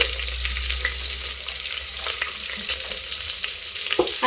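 Finely chopped onion frying in hot oil with spices in a pressure cooker for prawn pulao, a dense, continuous close sizzle with occasional light stirring scrapes and a soft clunk near the end.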